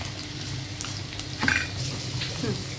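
Garlic sizzling with ginger in a hot pan for spicy capsicum rice, a steady low crackle under occasional stirring scrapes and a sharp utensil clink midway.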